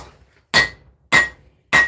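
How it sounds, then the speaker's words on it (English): A blacksmith's hammer strikes a hot railroad spike on an anvil three times in steady rhythm, each blow a loud bright clang with a short ringing tail. "hammering down with the cross beam for the most part to really spread the material out of this railroad spike"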